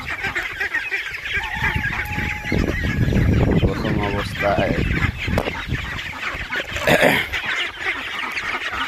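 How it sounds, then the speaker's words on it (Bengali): Khaki Campbell ducks calling near at hand, their repeated honking quacks mixed with fowl chatter over a steady outdoor bed, with a few spoken words partway through. "এটি হচ্ছে আমাদের খাকি ক্যাম্পেল হাঁস।"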